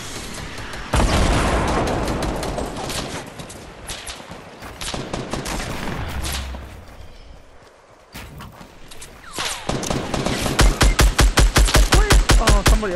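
Gunfire in the Fortnite battle royale video game, with dense bursts of rapid shots, loud and close, and a rapid steady volley near the end.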